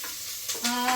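Onions browning for a chicken curry fry in a pan, giving a short burst of close sizzling that swells after a brief quieter moment, with light stirring scrapes and a faint tonal whine.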